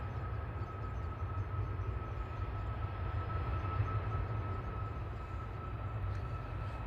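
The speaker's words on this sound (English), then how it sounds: "BA from London Heathrow about to touchdown" A British Airways A319 in from London Heathrow lands at Manchester Airport, a steady distant engine roar with a low rumble and a sustained tonal whine, no voices.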